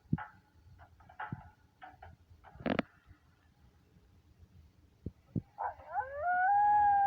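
A wolf howls near the end, a rising, sustained tone that swells loudly after a few scattered thumps and soft yelps.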